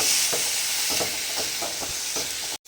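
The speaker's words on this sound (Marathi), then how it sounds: "आणि आता आपण हे तांदूळ टाकूया आणि हे छान परतून घेऊया" Rice fried in ghee with a pinch of turmeric, a rice dish made for the Bhogi festival, gives a steady close sizzle. Regular scraping stir strokes run through it, then it stops abruptly near the end.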